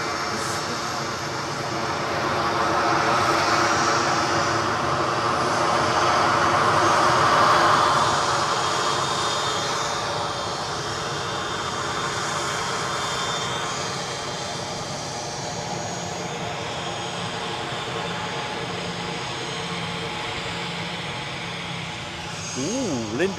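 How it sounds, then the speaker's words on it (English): A Ryanair airliner arriving from Paris at Edinburgh Airport rumbles in with a broad engine roar that swells and then slowly fades, heard at a distance across the airfield over a long stretch. "Ryanair inbound from Paris."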